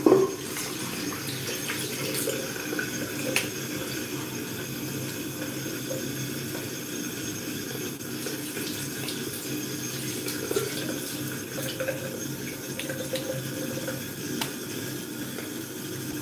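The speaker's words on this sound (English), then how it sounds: "Now I'll use that cold water." Cold water runs steadily from a sink tap during a live shave, a continuous close hiss and splash lasting throughout with no talking.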